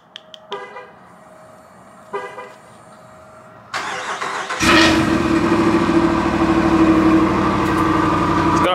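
A few short electronic chirps, then a starter cranks and the 6.4-liter V8 of a Jeep Grand Wagoneer cold-starts, settling into a loud, steady, deep rumbling idle close by.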